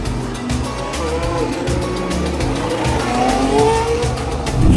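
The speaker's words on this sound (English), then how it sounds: "It is so freaking loud because the cars are like, vroom!" Formula 1 race cars roar loudly at a race circuit, a continuous dense engine din with rising revving tones as cars pass close by, with some voices mixed in.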